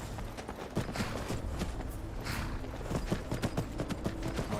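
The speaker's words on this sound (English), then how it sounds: "there's my horse" Hooves clop steadily on the ground as a horse moves in Skyrim, a fairly close, rhythmic pattern of irregular thuds heard alone without talk.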